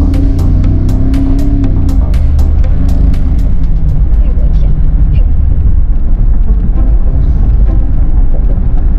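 A Mercedes-Benz G63 AMG pulls away and accelerates hard, its deep engine rumble steady and close throughout, with voices talking over it early on.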